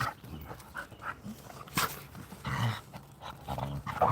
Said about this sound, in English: Let's all listen to my dog.